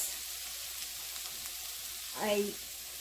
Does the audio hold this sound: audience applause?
no